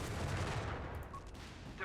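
Artillery fire rolls through a 3v3 Company of Heroes 3 battle on the Gothic Line map as a dense, continuous low rumble of distant blasts and gunfire that eases slightly toward the end.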